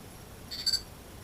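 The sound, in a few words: Insteon hub and plug-in module exchanging beeps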